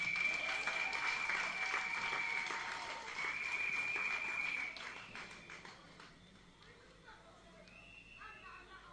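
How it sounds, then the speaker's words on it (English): Applause from the audience at a constituency annual general meeting, a loud sustained clapping crowd that slowly thins and fades toward the end, with voices talking under it. "Let us applaud them one more time."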